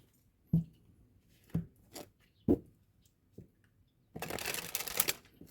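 Close, quiet taps of tarot cards being handled, then a brisk riffle shuffle rattles for about a second.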